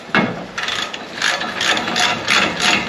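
Ratchet wrench clicking in quick repeated bursts while snugging exhaust bolts on a 2006 Jeep Wrangler during a FlowMaster cat-back exhaust install, close and clear with no talking.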